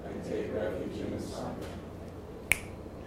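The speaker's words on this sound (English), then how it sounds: "And that, with the finger snap, is the transmission of the lineage to you." A single sharp finger snap rings out near the end of a Buddhist refuge vow ceremony, standing alone against a quiet room murmur.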